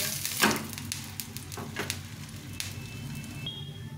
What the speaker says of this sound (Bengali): পাল্টে পাল্টে ভালো করে ভেজে নিতে হবে।